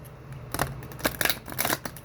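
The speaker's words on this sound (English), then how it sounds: "Give a couple more shuffles just because that's what I feel like I need to do." Cards are shuffled in a few quick riffling bursts, crisp and close, with brief pauses between them.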